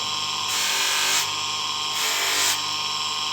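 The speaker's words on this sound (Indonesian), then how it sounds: "Di belakangnya juga kita poles." Polishing the back of a handmade abstract heart-shaped metal pendant with a power tool, a steady high whirring hiss that swells in two louder bursts as the piece is pressed in, with no talking.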